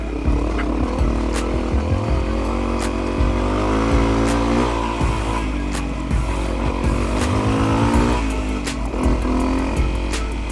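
Dirt bike ridden off-road, its engine loud and close in a steady drone with repeated revs and shifts. Sharp knocks and clatter from the rough terrain break in here and there.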